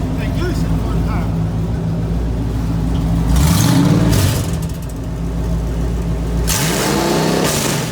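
A car engine rumbles steadily and is revved sharply twice, each rev rising and falling, with a voice speaking over the engine noise.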